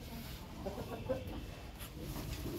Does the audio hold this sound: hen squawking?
yes